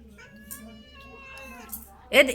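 A cat gives a drawn-out, wavering meow and then a sharper, louder cry at the end, close up in a quiet room.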